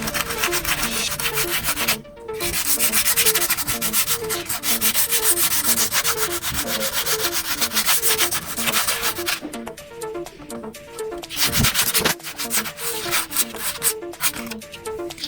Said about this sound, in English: After that, we sand it to make it smooth.